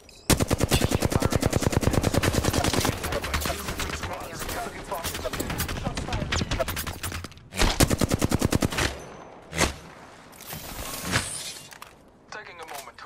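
Rapid automatic gunfire from a shooter video game pounds out in a fast, even stream at first, then breaks into shorter bursts and single loud shots, with voices talking underneath.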